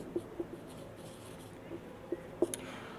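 Marker or chalk writing on a board during a class-10 physics lesson, heard as a few faint scattered taps and short strokes over a quiet room hum, with no talking.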